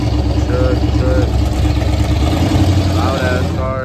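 A loud car engine rumbles steadily at a truck meet, low and close throughout, with people talking over it.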